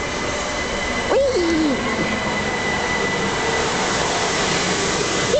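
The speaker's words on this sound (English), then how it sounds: "Ooh, it's the Brighton train's coming." A Brighton train arriving at Barnham station: a steady rumble of wheels and carriages fills the whole span, with a brief squeal or voice-like glide rising near the start.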